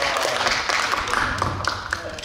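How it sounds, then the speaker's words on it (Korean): An audience at a picture-book forum discussion claps briefly, scattered hand claps close by, with talk mixed in. "박수 한번 주세요."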